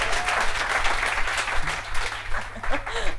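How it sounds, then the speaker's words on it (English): A small comedy podcast audience gives a brief, thin smattering of clapping, fairly quiet and scattered, while studio hum runs underneath. "Let them clap."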